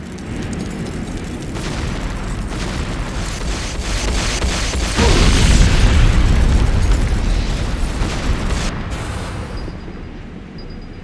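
Video game explosions as an airstrip comes under attack, a dense continuous roar of booms and blasts that swells to a heavy rumbling peak midway, then eases slightly.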